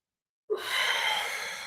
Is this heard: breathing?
yes